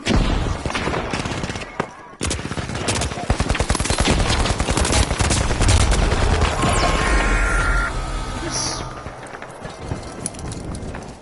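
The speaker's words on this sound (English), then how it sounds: "Where did the sniper shot come from?" Rapid bursts of gunfire and a sniper shot in the video game The Finals, loud and continuous with dense overlapping shots, footsteps and action effects throughout.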